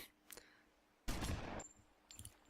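A loud burst of gunfire in the video game Omerta: City of Gangsters, sharp and close, with a fainter shot before and a few softer pops after.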